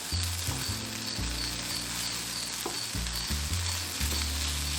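Potatoes fry in a pan with a dense, steady sizzle and crackle, close and continuous, with occasional soft scraping of stirring and no talking.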